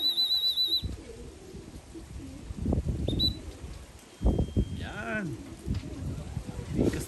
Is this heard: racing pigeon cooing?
yes